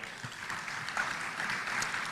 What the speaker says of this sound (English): Let's put another round of applause for